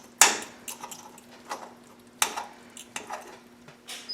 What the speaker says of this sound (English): Just kind of stir it back in.